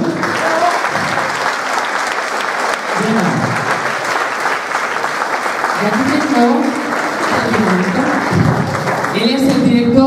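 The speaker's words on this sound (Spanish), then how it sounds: "aplauso, por favor" Applause at a gala featuring the Rondalla Lo Divino de Puntallana, steady crowd clapping throughout, with voices talking over it and a few musical tones near the end.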